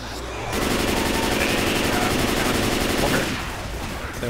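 Rapid sustained gunfire from the video game Left 4 Dead 2, a dense continuous burst of shooting lasting about three seconds, loud and close, with the shots tailing off at the end.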